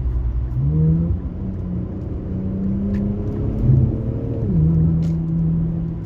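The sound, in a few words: Q60 car engine with AAM exhaust mod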